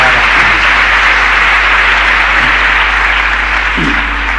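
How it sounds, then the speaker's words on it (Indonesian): An audience applauding during a church sermon, broad dense clapping that stays loud and steady throughout, with a faint voice underneath. "jangan tepuk tangan dulu"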